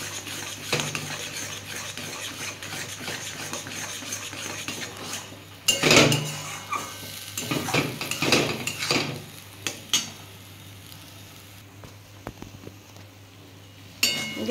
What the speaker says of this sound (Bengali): না নাড়লেই তলাটা ধরে যাবে।